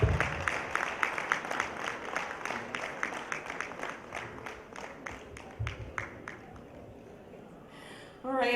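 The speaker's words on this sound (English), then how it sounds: "a big round of applause for Senator Ben Murray Bruce" Audience applause following a senator's speech, dense rapid clapping from a crowd running steadily throughout, fairly close, with scattered individual claps standing out and a louder burst at the very end.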